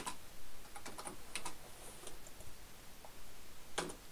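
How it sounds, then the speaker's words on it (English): Typing on a computer keyboard, a run of quick light key clicks in uneven bursts, close and fairly faint, with no talk. "if I type this"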